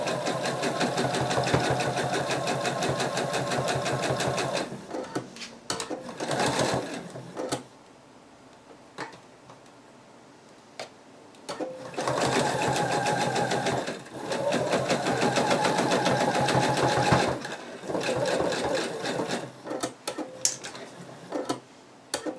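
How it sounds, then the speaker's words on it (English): Sewing machine stitching around the seam of a betta fish plush, running in several long loud bursts separated by brief pauses, with a rapid mechanical rattle and no voices. "So I'm going to start right just before this head seam and start sewing around the entire plushie."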